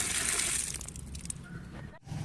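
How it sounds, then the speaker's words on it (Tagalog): Water runs from a newly installed outdoor faucet in a steady close splashing gush that fades and cuts off near the end. "Mayroon na siyang gripo guys oh."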